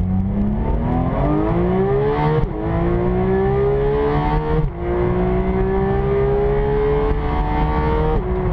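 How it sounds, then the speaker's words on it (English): A Porsche 991 GT3 engine revs hard and high, pitch climbing steadily with brief dips at each gear change, loud and close throughout with a hard mechanical valve-train edge. "this sort of hard mechanical valve train noise that comes through, that is addictive"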